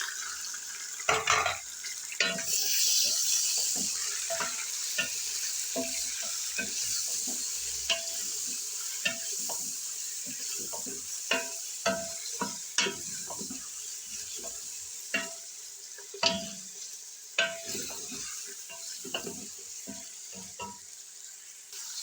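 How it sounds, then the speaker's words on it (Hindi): Mutton sizzles and fries with ginger and garlic in a karahi for a Lahori mutton karahi, with a steady crackle close by and repeated clanks and scrapes of stirring all through, no talking. "अदरक लहसुन हल्का सा आपने फ्राई कर लेना है और फिर इसमें हम डाल देंगे मटन।"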